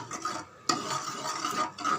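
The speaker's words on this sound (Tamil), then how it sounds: "லைட்டாக அப்படியே கரண்டியாலேயே மசிச்சு விட்டுடுங்க" A ladle stirring and mashing cooked tomato in a pot for tomato kadayal, soft scraping and squelching strokes repeating steadily up close, with a sharper clank of the ladle against the pot partway through.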